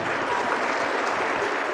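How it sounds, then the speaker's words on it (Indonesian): Steady, even audience applause at an Islamic religious talk, filling the whole short stretch at moderate loudness with no talk over it. "Ya, tepuk tangan boleh buat mereka"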